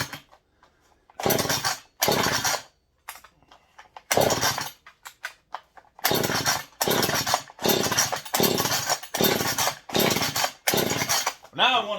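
A Husqvarna 440 chainsaw with its high idle speed turned down fires in loud, close bursts of raspy two-stroke revving, separated by near-silent gaps and a few faint sputters.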